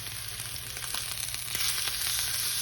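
Flat iron steak sizzling and frying in a hot pan, a dense, steady crackling hiss that swells slightly toward the end, close and without talk.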